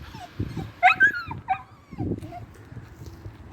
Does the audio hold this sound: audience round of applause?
no